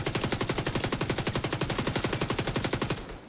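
Rapid automatic gunfire in the video game The Division 2, a steady stream of evenly spaced shots firing for about three seconds before cutting off, loud and close with no voices over it.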